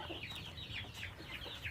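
Kampung chickens clucking in a coop, a steady layered murmur of hen calls with sharper clucks popping out at intervals, fairly close and continuous with no talking.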